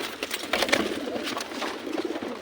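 Pet pigeons or doves in a coop, soft overlapping cooing with faint rustling and scattered calls throughout, steady and close, no talk.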